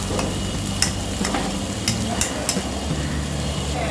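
Chutney ingredients fry on low flame in a pan while being stirred continuously: a steady sizzle broken by several sharp scraping clicks of a spoon against the metal.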